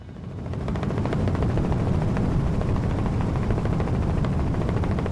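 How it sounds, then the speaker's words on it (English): Helicopters fly overhead above the remote Australian outback, a steady rotor chop that swells in over the first second and then holds loud and even, with no voices. "Helicopters were flying over."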